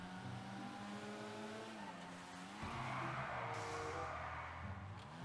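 Volkswagen car skidding in GTA 5 Online, an engine droning steadily, then tires squeal in a long rising screech as the car slides, loud and close with no talk.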